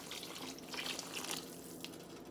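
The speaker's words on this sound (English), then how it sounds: "Now we're going to add more water" Water pours steadily into a pot of beans for Louisiana-style red beans and rice, a continuous close splashing and running sound with no talk.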